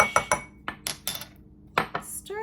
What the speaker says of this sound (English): Stir with a wooden spoon.